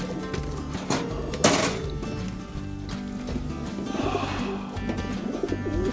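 Pigeons at a Polish racing-pigeon loft give low, repeated cooing calls, close and steady, over a busy background of rustling and other birds, with a brief sharp noise in the middle.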